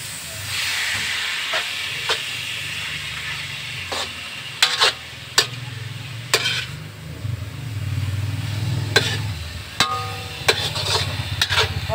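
Food sizzles steadily in a cooking pan, a continuous close hiss broken by sharp clinks and scrapes of utensils stirring.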